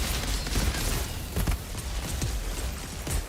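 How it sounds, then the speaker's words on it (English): Explosions in the video game Outriders rumble continuously, with repeated booming blasts and crackling bursts layered into a dense, loud wall of game combat noise. "Got these explosions going."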